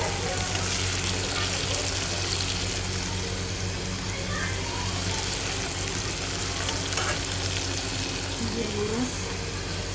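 Brinjal and potato pieces fry in oil in a pan, making a steady, dense sizzle close up that runs unbroken for ten seconds, with a voice faintly present at times.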